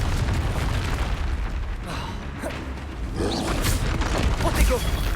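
A Confringo fire spell blasting against a troll in the Hogwarts Legacy video game, several dull booming bursts over a rumbling game soundscape, with a voice heard in the mix.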